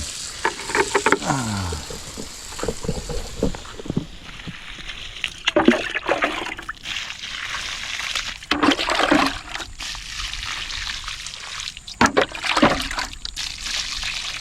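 Water poured from a hose onto a papaya plant in a garden, heard as repeated bursts of splashing and trickling that come and go, close and moderately loud, with no talking.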